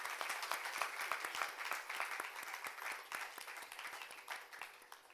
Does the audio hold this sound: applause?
yes